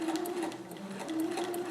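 A sewing machine stitching a Hawaiian shirt (Simplicity 3852 pattern), run at a slow, even pace. It makes a close, steady whirring hum with a faint rhythmic needle pulse throughout, and no one speaks.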